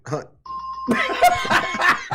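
A radio show's correct-answer bell sound effect rings out as a single sustained tone, loud and close, then quickly gets buried under overlapping voices and laughter from several people in the studio.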